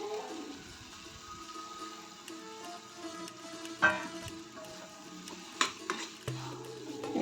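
Okra tossed into a hot pan for bhindi masala curry, a soft sizzle with scattered clinks and scrapes of a spoon stirring, quiet and close with a few sharper knocks.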